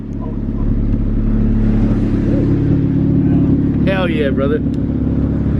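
A junkyard-rescued Honda CRX engine idles steadily, a constant close low hum with a brief excited voice cutting in near the end.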